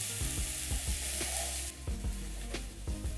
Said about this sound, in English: Then I'm going to add my onions. Stir. And let this cook until soft.